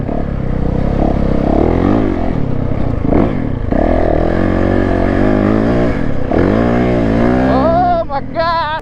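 A Yamaha YZ450F 450 dirt bike engine drones loud and steady while riding off-road in sandy conditions, with wavering pitch as the throttle shifts and a rising rev near the end.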